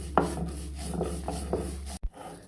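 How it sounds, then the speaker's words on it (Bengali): Dried red chilies and grated coconut being ground by hand for coconut shrimp bhorta, with rhythmic, close rasping strokes that break off briefly near the end. "এখন একটু বেটে নিই।"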